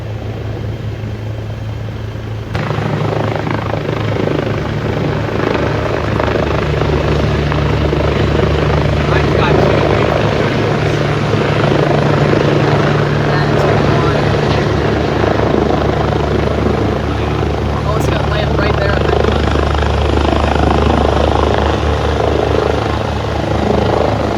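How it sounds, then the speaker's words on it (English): A UH-72 helicopter lands nearby at Hagerstown, its loud, steady rotor thrum and turbine roar filling the whole stretch after a sudden swell near the start, with voices talking underneath. "Nice landing from a UH-72."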